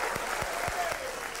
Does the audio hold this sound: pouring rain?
no